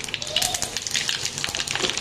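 Asafoetida dropped into hot ghee with cumin and mustard seeds for a dal tempering, giving a close, crackling sizzle with sharp pops throughout, no talking.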